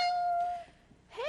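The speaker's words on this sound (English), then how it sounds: "That's no kitty. That's a jaguar cub." A jaguar cub gives two high, kitten-like meows, a drawn-out cry that fades, then a short rising call after a brief pause, both close and clear.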